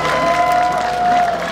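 An audience at an outdoor evening performance claps in a brief burst of applause, with a steady tone ringing through the crowd noise.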